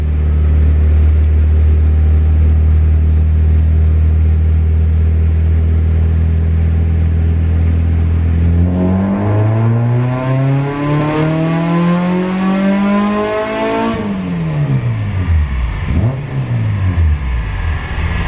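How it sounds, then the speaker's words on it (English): A naturally aspirated K24-swapped Honda EK hatchback running at wide open throttle on a dyno. A steady loud drone rises into a climbing, screaming rev that peaks and then falls away as the pull ends. "Do a pull, see how wide open throttle is."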